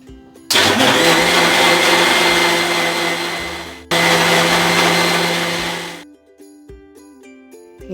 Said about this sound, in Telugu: ఒక్కొక్కసారి మిక్సీకి వేసి లైట్గా